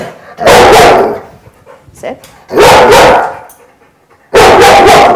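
A dog barks in three loud, harsh bursts spaced about two seconds apart, close to the microphone indoors, with a person giving short commands in between.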